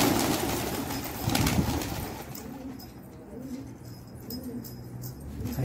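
A pigeon cooing outdoors in low, repeated murmuring calls, fairly faint beneath broad background noise and wind-like rustle.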